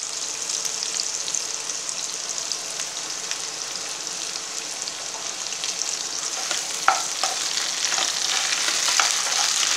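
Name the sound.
radish frying in oil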